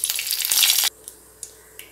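Mustard seeds, urad dal and curry leaves hit hot oil with a loud, bright sizzle and crackle that stops abruptly, followed by a few sharp pops and spatters.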